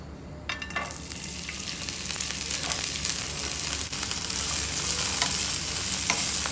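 Raisins frying in hot ghee while being stirred for a Kerala laddu, giving a steady loud sizzle with scraping and clinking from the stirring throughout.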